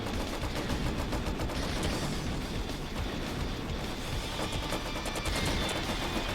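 Continuous heavy gunfire and battle noise from vehicle combat in the video game Twisted Metal 3, dense and loud throughout without a break.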